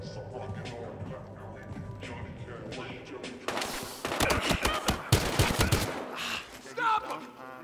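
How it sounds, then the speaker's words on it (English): Gunfire in the video game Battlefield Hardline: after a stretch of quieter game sound with voices, a burst of rapid, loud shots erupts, followed by scattered single cracks and a few thuds. "Gunshots reported."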